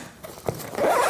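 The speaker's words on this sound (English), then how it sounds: "The garment compartment has a neat double zipper feature" A double zipper on the garment compartment of a Pelican 1510 laptop overnight case gets pulled. A soft start builds to a loud, close, rasping zip toward the end.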